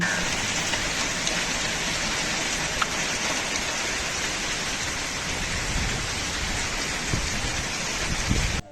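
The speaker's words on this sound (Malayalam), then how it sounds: "പുറത്ത് നല്ല മഴയാണ് കേട്ടോ." Heavy rain pours steadily outside a village home in Kerala, a dense, continuous hiss of drops on surfaces filling the space without pause, with a few louder spatters near the end and no voices.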